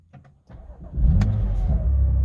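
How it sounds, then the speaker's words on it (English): A BMW M2 fitted with a Starline i96v2 immobiliser cranks briefly with a few starter chugs, then catches and settles into a loud, steady idle close to the microphone. "Let's just start the vehicle now."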